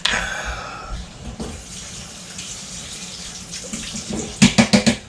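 Water runs from a kitchen tap while a canning utensil is rinsed under it, a steady splashing flow with a few rhythmic sloshing bursts near the end as the tool is moved through the stream.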